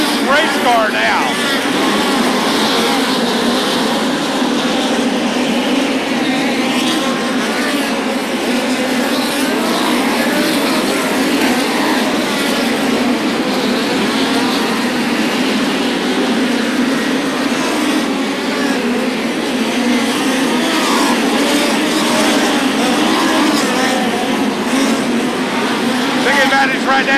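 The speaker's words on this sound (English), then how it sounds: "Look out, Darren Hagan with a very loose race car now" POWRi midget race cars roar continuously around Macon Speedway during a feature race, loud engines droning and swelling as the pack circles, with an announcer talking over the din.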